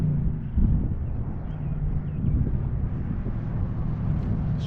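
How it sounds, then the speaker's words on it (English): Steady wind gusts rumble across an outdoor RC plane flying field, a constant low buffeting roar against the microphone that persists throughout, loud and unbroken with no voices. "this is kind of a lot of wind today for"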